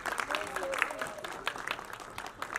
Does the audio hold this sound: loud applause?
yes